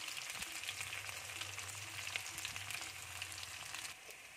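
Onions fry in hot oil with ground garlic, ginger and spices, giving a steady, close sizzle that crackles evenly throughout and then drops slightly near the end, with no voices.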